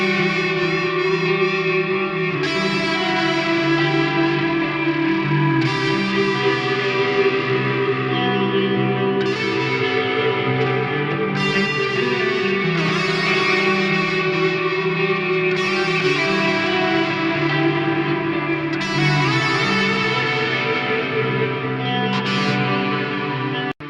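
Electric guitar through a Qi Etherealizer pedal, playing dreamy lo-fi chords with the gain and lead turned down, each strum trailing into a long washy reverb tail that swells and overlaps continuously without talk.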